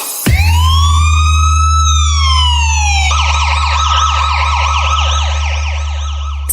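A police siren blares loud and close. A long rising-and-falling wail shifts abruptly into a faster yelping warble over a steady low engine rumble.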